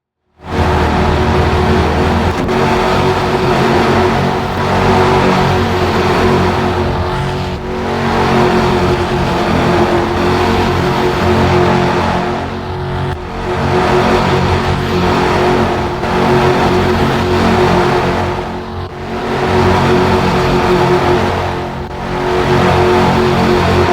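Race car engines roar continuously through a championship race at Homestead-Miami, loud and dense, with repeated swells as cars speed past.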